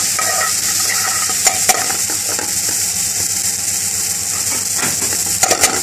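Chopped onion fries in a pan for an Indian fish curry, a dense continuous sizzle close up. Scraping, ratcheting stir strokes cut through it now and then, with no one talking.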